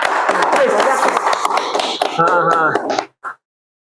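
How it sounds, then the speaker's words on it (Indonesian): An audience at a village-planning talk clapping loudly for a speaker, dense applause mixed with voices that stops abruptly, followed by a single last clap. "Sekali lagi dong, tepuk tangan buat Pak Acep ya"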